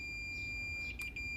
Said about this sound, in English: the meter makes a sound, so that's the mode that I have it on